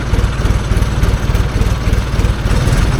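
A 1970s International bulldozer's diesel engine runs at a steady idle, a loud close rumble with a rapid, even pulsing throb and no voices over it.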